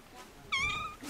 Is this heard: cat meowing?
yes